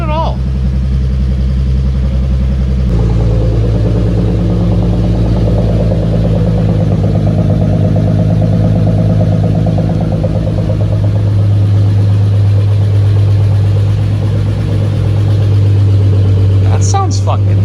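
An Acura Legend coupe's engine runs and idles steadily, a loud close low drone that deepens and settles after a few seconds, with a brief higher noise near the end.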